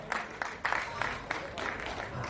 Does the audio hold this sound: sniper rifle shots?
no